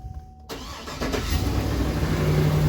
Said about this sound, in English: Crank it up, run it through the gears.